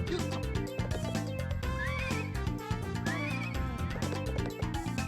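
A horse whinnies twice in rising squeals over busy, constant Nintendo 64 game music with drums and synth tones.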